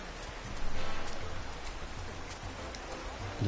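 Steady rain hisses in Final Fantasy XIV, a broad, even patter of drops on surfaces that fills the scene at moderate level with no voices over it.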